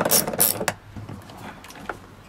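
Small metal clicks and a brief ratcheting burst from a wrench working 10 mm bolts on the reverse light housing of a GR86, close up, with a couple of faint taps following.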